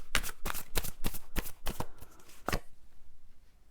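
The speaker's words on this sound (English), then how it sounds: "These are so easy to shuffle." Tarot cards are shuffled in a quick run of crisp riffling bursts, about seven close, loud flutters in steady rhythm, then the deck settles quietly.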